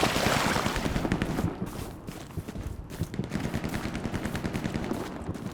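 Rapid gunfire in a video game crackles loudly through the whole stretch, dense bursts at first and then a steady run of quick, evenly spaced shots with no voices.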